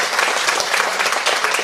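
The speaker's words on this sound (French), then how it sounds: "sous vos applaudissements, mesdames, messieurs" Applause from an audience at a mayoral investiture ceremony, a brief burst of dense, loud, continuous clapping from many hands.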